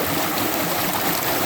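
A creek flows steadily outdoors, a continuous close rush of water with no voices over it.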